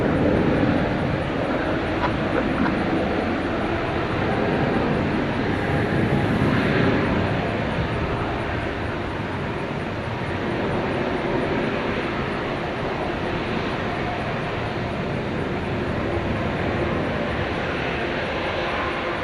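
A plane at DFW Airport at night produces a steady, broad jet engine roar that holds loud and continuous throughout, with no breaks and no speech over it.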